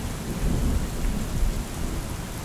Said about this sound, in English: the wind rose heavy, and rain started falling.